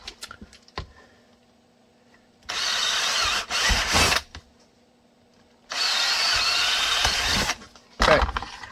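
A power drill fitted with a 7/32 bit bores holes in a holster being made for an XDS 3.3 pistol, running in two loud, sustained bursts and a short final burst, with clicks and handling noises between them.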